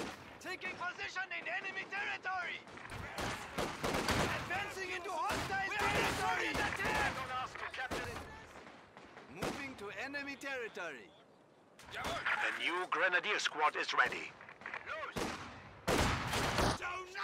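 Half-track machine gun firing in a video game with a howitzer also in play, heard as dense, rapid bursts of gunfire that pause once about two-thirds of the way through. Someone talks over much of the shooting.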